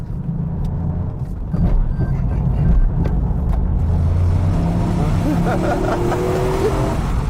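A Toyota GR Yaris is driven hard around a race track, its engine note rising and falling through gear changes and corners, heard steadily from inside the cabin while the driver speaks.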